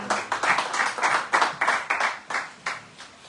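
Church congregation clapping together in a steady rhythm of about a dozen sharp, loud hand claps in quick succession during a gospel service, no talk.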